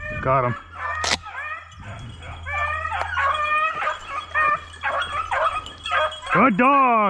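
Hunting dogs on a snowshoe hare hunt in Nova Scotia woods bark, yip and whimper excitedly and continuously, close by, with a voice calling over them.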